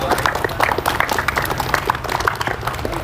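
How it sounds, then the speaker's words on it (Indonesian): A small group at a martial arts sharing session claps together in a brief, uneven patter, moderately close, with a few voices mixed in. "Oke, tepuk tangan lu."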